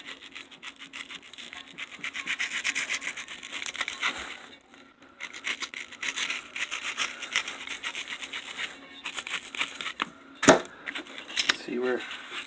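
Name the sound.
utility knife cutting off a speaker dust cap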